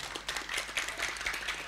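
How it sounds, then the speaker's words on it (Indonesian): An audience claps in steady, brisk applause for a short burst, fairly close and even, with no voices over it. "Tepuk tangan."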